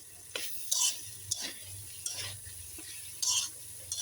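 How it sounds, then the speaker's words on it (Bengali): Cumin paste being stirred into hot oil with boiled potatoes, a spoon scraping the pan in several distinct strokes over a close, steady sizzle; no talking. "জিরা বাটা দেওয়ার পর আমি এই যে নাড়া দিয়ে নিতেছি"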